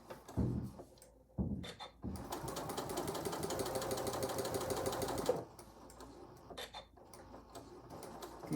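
A sewing machine stitches across a zipper pouch in a fast, even mechanical whir of rapid needle clicks lasting a few seconds, framed by slower starts and stops and small handling sounds, close and clear.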